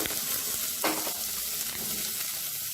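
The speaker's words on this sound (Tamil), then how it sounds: "எண்ணெய் நல்லா சூடாயிருச்சு. இதில் கொஞ்சமா இப்போ வெங்காயம் சேர்த்துக்கலாம்." Finely chopped big and small onions hit hot oil in a pan for an agathi keerai kootu, giving a steady, close, loud sizzle and crackle throughout, with a brief sharper burst as they go in.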